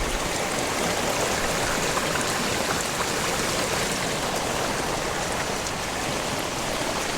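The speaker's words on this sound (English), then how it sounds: "currently the water is fair gushing along" Floodwater gushes through a creek crossing on a driveway, spilling over the causeway after heavy rain. The rushing is a steady, loud, broadband roar that holds for the whole stretch with no voices.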